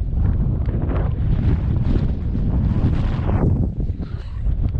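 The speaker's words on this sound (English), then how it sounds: "Still windy but not excessive." Strong wind buffets the microphone on an exposed hilltop in the Cheviots, a loud continuous roar with gusty surges.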